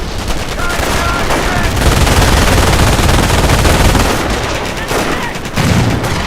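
Sustained automatic gunfire and bursts of shooting fill the whole stretch in the World War II strategy game Company of Heroes, loud and dense, with faint voices underneath.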